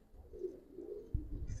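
Giribaz pigeons cooing softly nearby, a few low murmuring coos followed by a brief rustle or flutter near the end.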